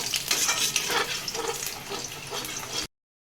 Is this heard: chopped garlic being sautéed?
yes